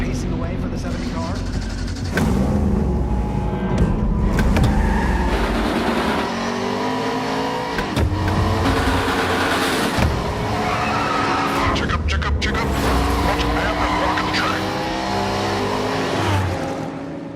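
Race cars lapping Road America in the eNASCAR Coca-Cola iRacing Series, iRacing sim engines droning and shifting with tire squeal throughout, loud and continuous under steady commentary.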